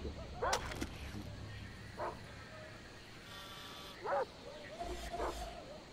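Dogs barking in the video game Far Cry 3: a few short, sharp barks scattered over several seconds at moderate distance, over ambient game noise with faint background sounds.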